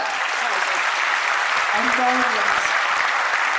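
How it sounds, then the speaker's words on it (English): Audience applause at a Walking Dead fan convention panel in Liverpool, a steady broadband clapping wash filling the room with a brief voice over it. "A round of applause for that"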